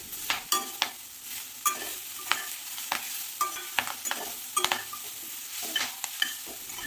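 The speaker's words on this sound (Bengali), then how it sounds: "আরও এক দু মিনিট একটু নাড়াচাড়া করে নেব গ্যাসের ফ্লেমটাকে মিডিয়াম লোতে রেখে যাতে মশলার কাঁচা গন্ধটা চলে যায়" Spices stirred in a pan over a medium-low gas flame for a cauliflower-greens curry: irregular scraping strokes of a spatula against the pan over a soft, steady sizzle, close and fairly quiet.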